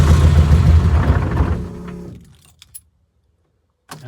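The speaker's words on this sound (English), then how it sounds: "Okay, so we've got sound of the fuel pump." Mk1 Vauxhall Cavalier with a C20XE engine suffering running issues: a loud mechanical rumble and whir fades out over two seconds, followed by near silence with a couple of faint clicks.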